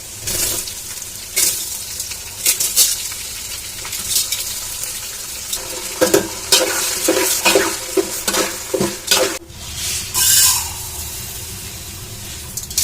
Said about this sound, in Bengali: এখন আমার এই যে ভিজা চালটা দিয়ে দেবো।